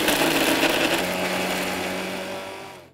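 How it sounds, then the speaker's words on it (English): An electric grinder whirs loudly as it blends chilies, onions, garlic, vinegar and salt into a thick paste, a steady high-pitched motor drone that gradually winds down toward the end. "now we'll grind this to a fine paste"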